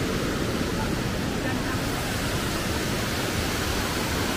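A steady, powerful roar of rushing water fills the whole clip, constant and loud, from Tarangban Falls in Calbayog, Samar, swollen after overnight rain.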